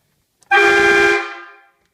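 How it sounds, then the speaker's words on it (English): A truck-mounted train horn on a lifted 1998 Chevy with a Cummins swap gives a loud, sustained multi-tone blast, bright and brassy, holding steady for about a second before fading out; a faint click precedes it. "that's my train horn."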